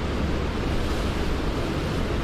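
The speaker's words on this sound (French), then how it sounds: "Je pourrais passer ma journée là à regarder les vagues, à écouter ce bruit." Ocean waves crash on the shore at Biarritz, France, making a continuous, dense, loud roar of surf and spray with no break and no voices.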